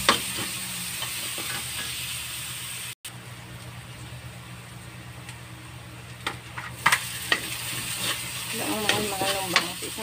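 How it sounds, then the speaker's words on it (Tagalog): Oil in a pan previously used for frying milkfish sizzles faintly while ingredients are sautéed, with scattered stirring clinks and scrapes and a few louder knocks. "Dito rin ako magigisa ng aking mga ganito. Dito ko rin siya igigisa."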